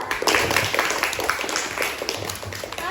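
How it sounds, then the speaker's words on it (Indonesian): A classroom group of students claps for group 2, a dense, even patter of many hands that lasts a few seconds with faint voices underneath. "beri tepuk tangan dulu"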